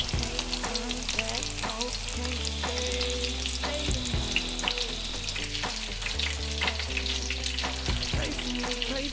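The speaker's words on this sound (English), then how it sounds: "we're gonna bread up this and just slowly start putting it into the pan" Breaded walleye fries in oil in a pan with a steady crackling sizzle and small spattering pops. A low hum runs underneath and occasional stirring or scraping knocks cut in, with no voices.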